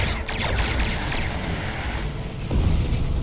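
Starship weapons in a Star Trek Online space battle fire a rapid series of five sharp energy blasts over a loud, rumbling background, then a heavier impact boom near the end.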